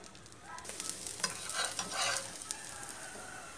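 Ghee dosa cooking in ghee on a hot pan, a soft close hiss and crackle that swells briefly in the middle before settling, faint overall with no voices.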